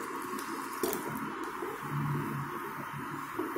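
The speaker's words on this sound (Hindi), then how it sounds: "तो ये 1 कप के करीब मैंने पानी इसमें डाल दिया है" Lukewarm water poured into kadai paneer gravy in a pan, producing a steady liquid gurgle and light dripping with a soft bubbling swell midway, moderately close and without speech.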